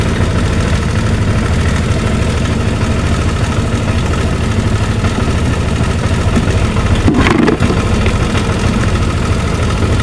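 A motorcycle engine idles steadily with its negative battery cable detached, giving a constant close mechanical hum and vibration that keeps running throughout, with a brief clunk of handling near the end.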